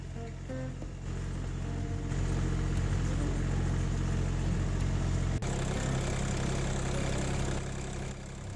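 Steady engine drone of a vehicle driving in fourth gear with all-wheel drive, loud and continuous, with a low rumble that shifts slightly partway through and no talk.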